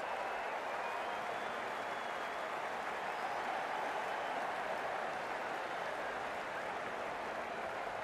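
Steady crowd applause at a cricket match, a dense even wash of clapping from a distant crowd that holds constant throughout without speech over it.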